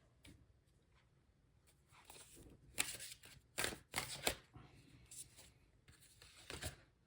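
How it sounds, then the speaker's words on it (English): Tarot cards being shuffled and handled close by, with a run of soft papery flicks, riffles and slaps that swell in the middle and trail off, heard without any talking. "Whoa, cards are dropping."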